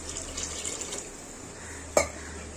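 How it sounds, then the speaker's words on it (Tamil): Water is poured into a pressure cooker pot of meat curry, a soft close trickle for about a second, followed by a single sharp metallic clank of the pot. "இப்போ இது தேவையான அளவு தண்ணி ஊற்றிக்கலாம்."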